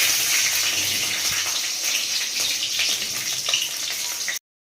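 Whole spices for a tempering of leafy greens (saag) sizzle steadily in hot oil, a loud, continuous frying hiss that cuts off abruptly at the end.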